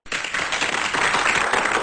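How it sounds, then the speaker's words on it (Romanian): Live audience applause for a radio guest, a steady, dense wash of clapping that starts abruptly and holds loud throughout, with no voices. "Te aplaudă toți, Daria."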